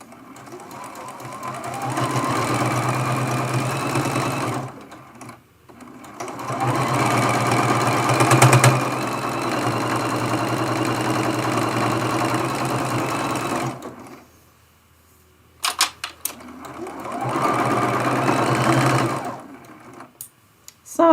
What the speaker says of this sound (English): And we're going to sew that seam.